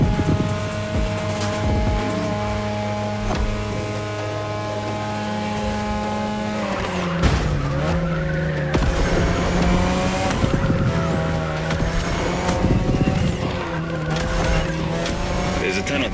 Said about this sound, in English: Tonight, your ride is a 3rd Gen 2002 Mazda RX-7. Lightweight, compact, a sick rotary engine